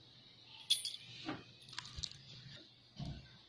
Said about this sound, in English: This is the toolbox lock and keys.